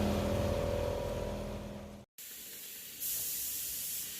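Hybrid primer sprays from a can onto car headlight parts for an R34 GTT to GTR Z-Tune conversion: a loud, close, continuous hiss, a brief break, then another burst of spraying.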